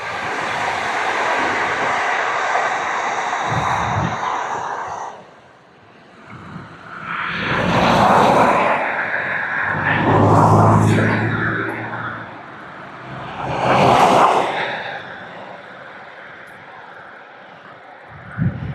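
A train passes near the Kent coast in a series of loud rushing swells, each rising and fading like carriages sweeping by, preceded by a dull roar and a brief lull.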